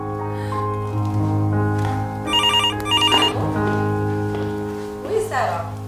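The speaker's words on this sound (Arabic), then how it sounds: "جوك التليفون" A telephone rings in a rural home setting, with two short bursts of electronic ringing in the middle over a steady hum, and people talking around it.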